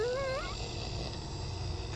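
A wolf growl sound effect: a brief whining, wavering cry at the start gives way to a low, continuous rumbling growl that holds at a moderate level for about two seconds.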